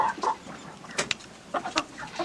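Chickens and a rooster cluck in short scattered bursts around a farmyard home, the calls fairly close and moderately loud over a faint background hiss.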